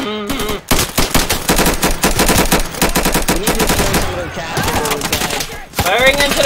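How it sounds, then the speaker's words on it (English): Loud, dense automatic gunfire from the video game Insurgency, long rapid bursts with short breaks between them. "Firing into the distance"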